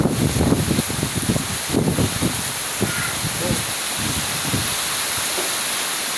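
Gusty wind from Typhoon Uwan in the Bicol region rushes and buffets in bursts, strongest at the start, easing into a steady roar with rustling debris.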